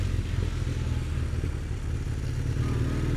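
A Kawasaki Z440 LTD classic motorcycle engine idles steadily nearby, a low, even, throbbing rumble with no revving or talk over it.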